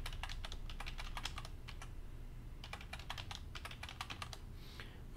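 A password is typed on a computer keyboard in quick bursts of close, crisp key clicks, with short pauses between runs, against a quiet room hum.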